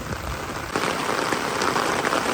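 Steady rain patters densely on a surface, a continuous hiss with close drops throughout, no voices.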